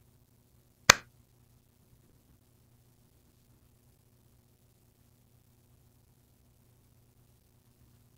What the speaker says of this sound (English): Let's try clapping